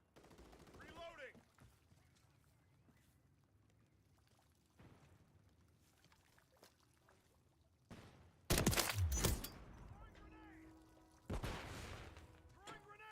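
Bursts of gunfire in Call of Duty: Modern Warfare 3 multiplayer, a few loud, sharp volleys breaking out over quieter battlefield noise, with faint voices underneath.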